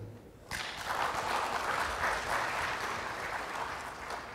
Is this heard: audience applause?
yes